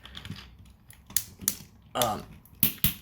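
Tight ratcheting elbow joints on a Cybertron Vector Prime action figure give a series of sharp, close plastic clicks in small irregular bursts, heard alone against a quiet background.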